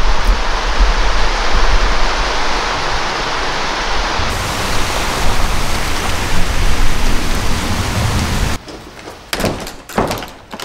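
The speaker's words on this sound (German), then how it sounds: "Oh, jetzt hagelt das auch noch." Hail falling as a loud, dense, steady hiss and patter close by, with a few hard thumps near the end.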